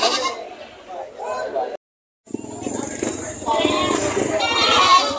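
Goats bleating at a livestock auction market in Padre Garcia: several nearby bleats and calls over busy market noise, with someone talking throughout and a short gap of silence partway.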